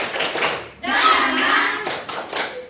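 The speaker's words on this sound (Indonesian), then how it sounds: "Ya, tepuk semangat." Schoolchildren in a classroom do a 'tepuk semangat' chant-and-clap routine, a loud group burst of clapping and chanting voices rising together, then dropping back to children's chatter.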